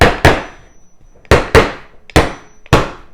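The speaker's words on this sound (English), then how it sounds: "Just going to finish by hammering them down." Six sharp hammer blows drive upholstery staples into a dining chair frame, landing in uneven pairs, each with a short ringing decay, close and loud with quiet gaps between.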